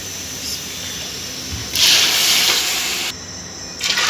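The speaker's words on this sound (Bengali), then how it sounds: "এখন আমি 6 মগ পানি দেবো এখানে।" Water, six mugs of it, poured into a hot pot of fried beef, rice and lentils for beef khichuri, sets off a loud steaming hiss and sizzle for over a second before it suddenly drops back to a quieter simmer.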